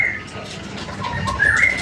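A sogon (sogo ontong) bird, freshly taken from a bulk trader's batch, gives a few short whistled chirps over a steady background hum, fairly close and moderately loud.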